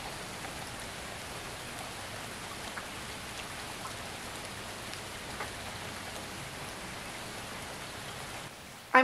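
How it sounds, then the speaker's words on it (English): Steady rain falls on a garden, an even hiss of many drops that stays constant throughout, close by and moderately loud with no voices, ending in a brief louder knock. "Ooh, it's raining!"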